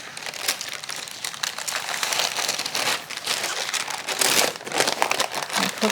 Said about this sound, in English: So I'm removing the paper.